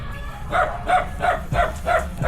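Dogs tied up in a fenced compound bark in a steady rhythm, about five evenly spaced, moderately distant barks.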